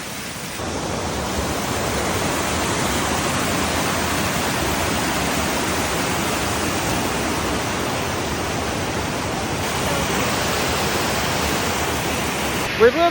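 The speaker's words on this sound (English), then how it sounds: "Look at this waterfall." A waterfall on rural private land roars steadily and fairly close, a dense continuous wash of falling water filling the whole clip with no voices over it.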